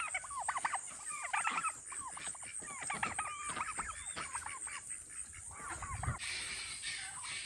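A large turkey on a cattle farm gobbles repeatedly in rapid rattling bursts, loud and close, with other fowl sounds and faint voices mixed in.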